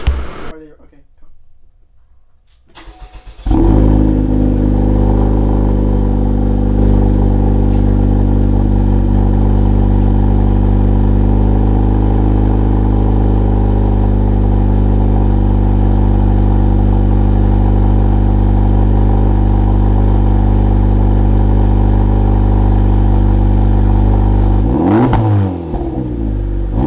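Honda Civic Type R FL5 fitted with an AWE Touring exhaust starts up, then holds a loud, sustained high rev near redline while cold, with a steady droning tone before it drops back.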